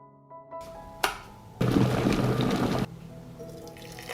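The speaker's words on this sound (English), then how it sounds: "I pour 200 milliliters of boiled water." Boiled water, 200 milliliters, pours steadily into a cup for about a second, preceded by a few clinks and drips, then trickles off into quiet.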